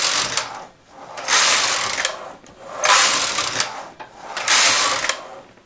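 A knitting machine with a ribber knitting rows: four loud swishing, rattling carriage passes, each about a second long, separated by short quiet gaps, close and clear.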